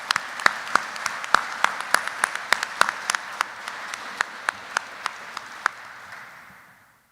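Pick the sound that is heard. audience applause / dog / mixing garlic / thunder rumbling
audience applause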